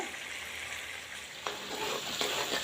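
Vegetables and masala fry for pav bhaji in ghee and butter over low heat, giving a steady, close sizzle broken by a few brief scraping stirs.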